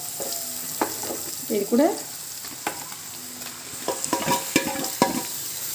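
Onions sauté in a pan for chicken chukka, a nearby sizzle punctuated by irregular spoon scrapes and clatters, with a brief spoken remark partway through.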